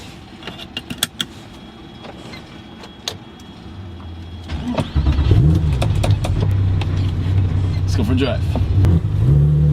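A loud Porsche 996 Carrera 911 with a half cage and aftermarket shifter: clicks and handling noises first, then the engine starts and settles into a deep, loud, steady drone as the car gets going, with someone speaking briefly over it.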